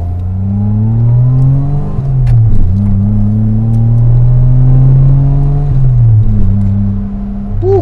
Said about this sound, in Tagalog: Suwabe lang yung sound. Actually, yung muffler mo hindi ganun kaingay.